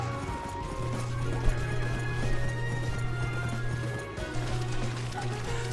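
Horse hooves in a video game, steady rhythmic clip-clop over a low continuous hum, moderately loud and uninterrupted for several seconds.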